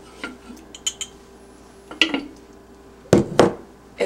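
A wooden spoon scrapes kefir grains out of a jar: a few scattered soft knocks and scrapes, with two sharper, louder strokes near the end.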